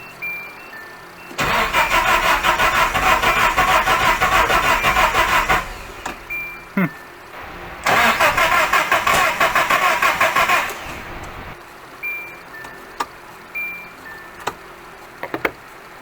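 A Nissan Hardbody truck engine cranks in two long bursts, spitting and sputtering while trying to start, separated by quiet pauses with faint ticks and clicks.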